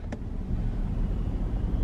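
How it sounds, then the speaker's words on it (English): Low, steady road rumble from inside a car crawling through bumper-to-bumper highway traffic, a dull continuous drone with a faint brief squeak near the start. "I'm in like just bumper to bumper traffic."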